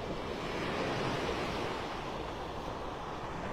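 Waves wash onto a beach as a steady, soft rushing roar that stays even throughout, with no voices.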